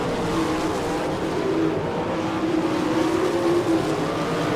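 410 sprint cars racing three wide on the dirt oval at Attica, Ohio, a loud continuous roar of several engines blending into a dense, steady drone.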